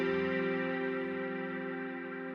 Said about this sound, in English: and then as an auto wah behind it to make it swoosh, and it's slow.